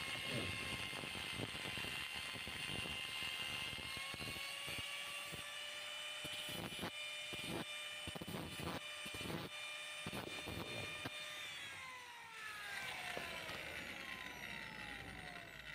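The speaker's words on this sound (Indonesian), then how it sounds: "Ya kita potong bautnya ntar seperti orinya ya teman-teman, jadi dibikin baut tanam begitu." An exhaust bolt being cut with a high-pitched rotary tool, a steady whining drone with a pitch that slowly falls and drops sharply near the end, broken by short cutting bursts, with no talking.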